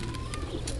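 Domestic pigeons kept by a pigeon breeder coo softly in a brief, low, murmuring burst, heard alone at a modest distance.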